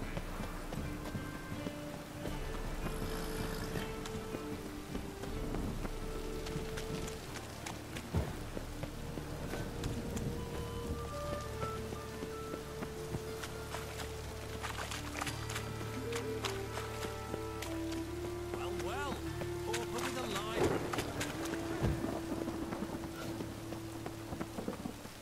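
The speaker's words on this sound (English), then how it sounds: "Storm, damn it." Stormy rain in The Witcher 3 pours steadily throughout, a dense continuous hiss with a low rumble and occasional tonal game sounds layered over it.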